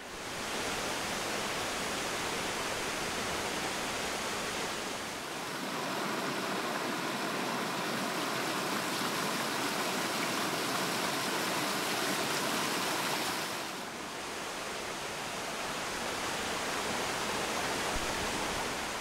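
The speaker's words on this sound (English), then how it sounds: "Water percolates from springs, creating ribbons of life, cutting through the south wall of the Niobrara, feeding more than 200 waterfalls." Spring-fed waterfalls along the Niobrara River make a steady, full rushing roar of falling water, with a slight shift in tone partway through, and no voices.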